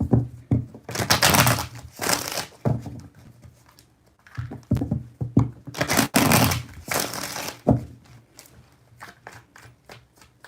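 Tarot cards are shuffled by hand in several bursts of papery riffling and soft slaps, close and fairly quiet, with brief pauses between the shuffles.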